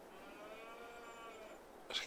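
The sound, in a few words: cows mooing on a farm, from video game Farming Simulator 22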